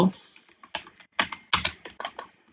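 Typing on a computer keyboard: a quick, uneven run of sharp key clicks and clacks, close and fairly loud, with short bursts separated by brief pauses and no talking.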